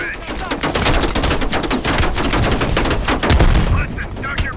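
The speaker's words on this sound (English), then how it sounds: "Heavy MG on the ridge." Heavy machine gun fire in Call of Duty: Cold War, a loud continuous rattle of rapid bursts with a voice speaking briefly over the barrage.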